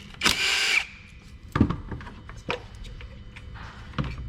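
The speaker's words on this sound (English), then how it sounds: "I'm gonna come in here, unbolt the ignition coils," A power tool unbolts the ignition coils on a Hyundai 2.4 engine, giving a loud burst of whirring near the start, then shorter spurts and clicks from the tool and parts, all close up.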